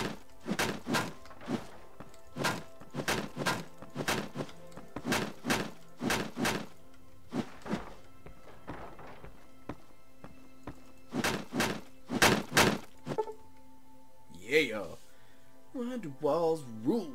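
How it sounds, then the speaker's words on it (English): Heavy sledgehammer and tire iron blows smashing old window frames in Fallout: New Vegas, a series of loud thunks and cracks in bursts with pauses, followed by a short stretch of talk. "First you use the sledgehammer and Dean uses a tire iron to remove the old window frames"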